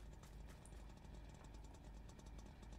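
Motorcycle engine idling in the battle-royale game PUBG, a steady low chugging rumble with a faint irregular knock, close and continuous with no talking.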